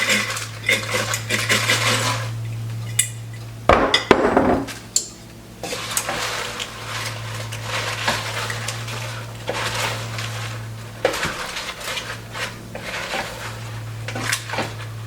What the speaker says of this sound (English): Now I'm going to very carefully stir my potatoes in.